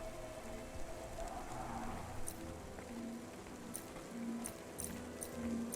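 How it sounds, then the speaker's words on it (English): Steady rain patters on surfaces in a futuristic city street in the video game Cloudpunk, a continuous even wash with faint tonal game sounds underneath. "Don't let all the rain get you down."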